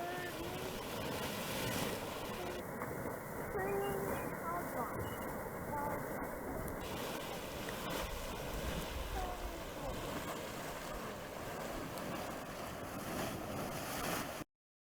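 Churning, bubbling mud pool at a Yellowstone mud volcano, heard as a steady, dense rumble and gurgle that runs continuously and loudly from start to finish before cutting off abruptly.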